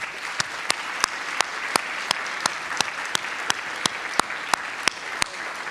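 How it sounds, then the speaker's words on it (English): Sharp, evenly spaced claps ring out at a regular beat over a soft bed of wider applause at an arts lecture event, honoring the board of directors. "Can we give those directors a nice round of applause?"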